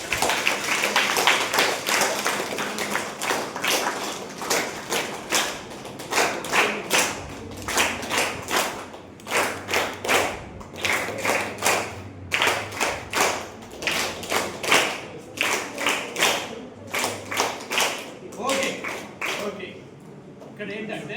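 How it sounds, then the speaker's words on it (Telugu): An audience at a government Ayurveda college event claps in sustained, rhythmic rounds of applause for about twenty seconds, steady and loud, with a voice talking over it at times. "ఈ చప్పట్లతో, మీ చప్పట్లతో"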